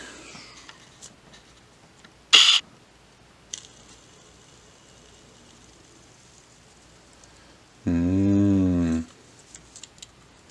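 A 1x3x3 spinner puzzle cube spins with a quick, smooth whirring burst lasting about a second. A sharp click comes earlier in an otherwise quiet setting.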